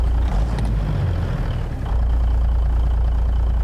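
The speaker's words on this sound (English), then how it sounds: "That's the thing I just love about diesel engines. Is that idle is always so steady." A diesel truck engine idles in American Truck Simulator, a Peterbilt 379 with an N14 engine: a loud, steady low rumble close up, with a brief dip partway through, no talking.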